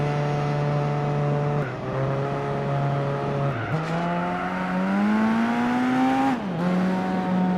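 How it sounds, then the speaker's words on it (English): A race car in Gran Turismo 4 with tyres losing traction, its engine droning steadily while the pitch rises and falls and the tyres squeal under load, loud and close throughout. "you can hear the lack of traction in the tyres now"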